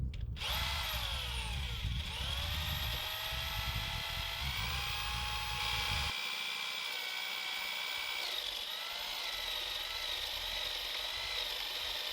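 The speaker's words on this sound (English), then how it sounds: "going to help me drill holes straight, put it through the boards as well" A power drill whirs continuously, its high motor whine shifting pitch as it bores holes through wooden boards, with a brief bump in load partway through.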